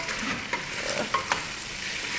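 Onions stirred into frying chicken in a pot for chicken biryani, giving a soft, steady sizzle with a few sharp spoon scrapes and clinks, close by and with no talking.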